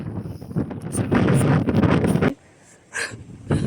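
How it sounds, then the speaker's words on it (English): Loud, blustery wind buffets the microphone on the John o' Groats Trail, with heavy low rumble, easing to a brief lull, then gusting again in short bursts. "It is so freaking windy today."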